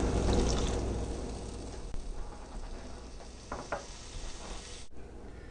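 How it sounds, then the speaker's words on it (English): Water poured into a pan of cooking spinach gives a soft sizzle and hiss that gradually fades, with a few faint clinks and stirring sounds before an abrupt cut. "Add a little water at this point."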